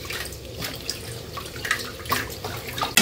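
Tap water runs steadily over freshly cut eggplant, cauliflower and potato being rinsed in a kitchen sink, with a continuous splashing rush and a few brief clatters of the pieces.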